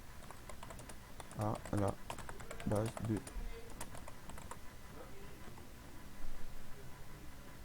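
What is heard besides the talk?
typing code on a computer keyboard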